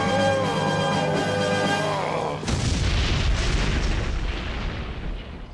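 A Unilaser blaster fires in Power Rangers Lightspeed Rescue, bursting into a loud, broad rushing blast that cuts off a sustained tonal passage and then slowly trails away.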